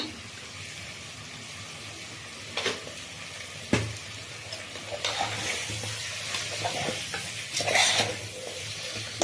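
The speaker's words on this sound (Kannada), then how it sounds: "ಈಗ ಚಿಕನ್ ಎಣ್ಣೆನಲ್ಲಿ ಫ್ರೈ ಆಗಿದೆ" Chicken pieces frying in hot oil for chicken gravy with a constant sizzle, occasional stirring scrapes and clinks of a utensil against the pan.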